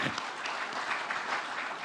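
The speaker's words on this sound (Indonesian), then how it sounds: "kita berikan tepuk tangan yang meriah" A brief, fairly faint burst of crowd clapping at a PDIP party event naming its Central Java governor candidate for 2024, a dense, even patter with no clear speech.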